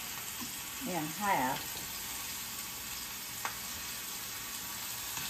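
Pork loin chops frying in a pan give a steady, quiet sizzle that runs throughout, with a brief voice speaking over it near the start.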